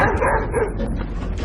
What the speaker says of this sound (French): Pourquoi tu aboies, quoi?